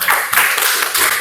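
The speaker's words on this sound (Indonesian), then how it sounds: "tepuk tangan untuk kita semua" A class of students in a ninth-grade science lesson applauds together; loud, close, somewhat uneven clapping comes in short surges over about a second.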